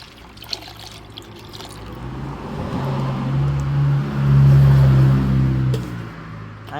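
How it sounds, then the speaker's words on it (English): Blended coconut milk is poured into a pot of cooked peas for a Jamaican Sunday dinner, making a soft, continuous liquid pour that swells midway and runs for several seconds. "So after your peas cook, you add your coconut milk."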